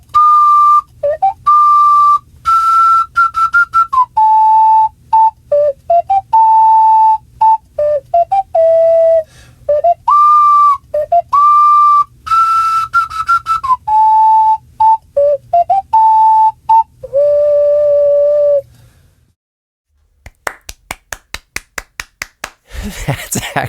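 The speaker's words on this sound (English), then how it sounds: "You don't have to keep sending me ocarina tunes." An ocarina plays a lively melodic tune of clear, pure whistle-like notes, sustained tones alternating with quick runs and held phrases for about eighteen seconds, then stops and gives way to scattered sharp taps.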